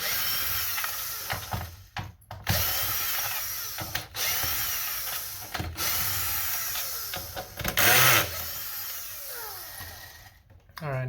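A power driver with a T10 bit backs screws out of an Xbox Series S console during an HDMI repair, giving short bursts of whirring motor noise between pauses and handling clatter, recorded up close.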